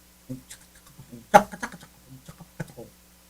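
Computer keyboard keys click in scattered, uneven taps with one sharper clack midway, close by, while people talk quietly in the background.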